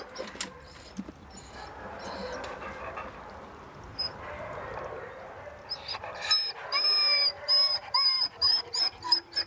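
Dogs at an animal shelter whimper and yip, the sounds rising into a run of high, repeated whines and short yelps toward the end over a low background murmur.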